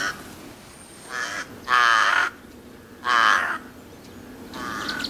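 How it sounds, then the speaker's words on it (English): Crow cawing near a camphor tree, calling in a series of harsh, loud caws with gaps between them, several bursts over a few seconds against quiet background. "crow."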